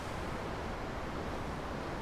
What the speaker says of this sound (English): Was she just admiring the waves again?